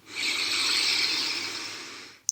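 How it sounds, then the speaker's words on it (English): A long, steady hiss of breath drawn in through the nose, close and soft, lasting about two seconds before a brief pause. "you can make an audible sound as you inhale through the nose"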